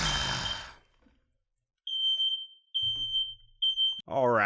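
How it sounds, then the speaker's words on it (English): A home smoke alarm sounds in repeated sharp high-pitched chirps after a quiet gap, with talk breaking in over the beeping at the end. "Turns out there was a deeper problem with my fire alarm system than I thought, and the controlled burns that they're doing are kind of setting it off."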